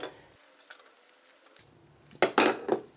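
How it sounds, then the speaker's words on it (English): Fabric for a quilt block is cut between sewn lines with scissors: a few faint snips at first, then a cluster of louder, close, crunchy blade closures near the end, with no talk. "now I'm going to cut between those lines"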